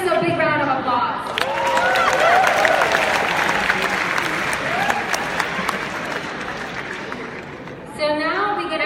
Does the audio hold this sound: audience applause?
yes